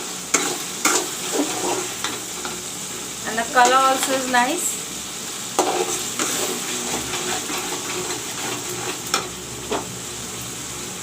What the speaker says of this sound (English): while the masala is frying